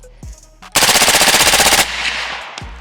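A rifle built on a Stoner lower with an overgassed bolt carrier group fires a fast, loud burst of roughly a dozen evenly spaced shots, followed by a ringing tail and mechanical clicks.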